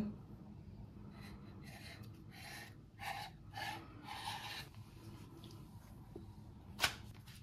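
Cutting folded yufka pastry sheets on a table, a quiet series of soft scraping, rasping strokes in short bursts, ending with one sharp tap.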